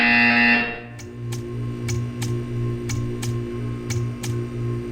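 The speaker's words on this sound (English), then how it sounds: "When you hear the buzzer, stare at the art." A buzzer in the Portal 2 video game: after a voice-over fades, a steady electronic buzzing tone drones on, with sharp ticking clicks breaking in at irregular moments.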